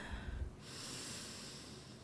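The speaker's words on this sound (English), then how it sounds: "let us breathe together" Slow guided breathing during a calm service, a soft nasal intake near the start followed by a long, quiet, airy exhale, faint and close with no talking.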